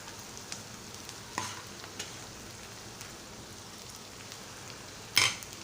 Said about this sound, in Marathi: आता आपण भात घालणार आहोत